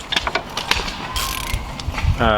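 Ratchet working on bolts to remove the strut bar of a BMW 335i with the N54 engine: quick metallic clicking bursts and clanks, close and loud, ending in a rapid ratcheting whir.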